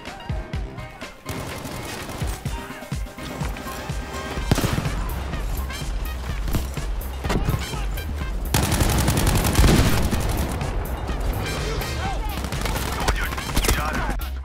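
Heavy gunfire and barrage explosions from a Battlefield V match rattle continuously and loudly through the whole stretch, with dense bursts and booms building after the midpoint.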